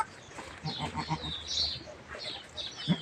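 Goats and kids bleat repeatedly in high, wavering cries, several overlapping at moderate distance, with a quiet background and no talking.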